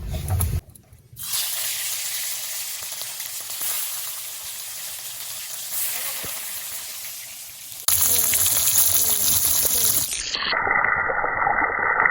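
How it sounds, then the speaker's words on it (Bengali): Hilsa fish frying one by one in smoking hot oil in a wok, giving a loud, steady sizzling hiss that runs almost unbroken, with a brief drop near the start and a sharper, brighter burst of spattering later on. "আমি এবার এক এক করে মাছগুলো ভেজে নেব।"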